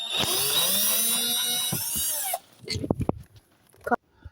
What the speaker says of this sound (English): let's start by taking this screw off